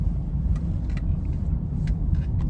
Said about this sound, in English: typical Honda. Nice quiet engine, nice and smooth